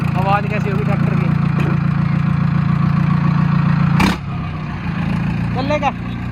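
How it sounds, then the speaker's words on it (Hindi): An Arjun Novo tractor fitted with a turbo idles nearby with a steady, throbbing low hum, while people talk over it and a brief sharp knock cuts in midway. "आवाज कैसी होगी ट्रैक्टर की"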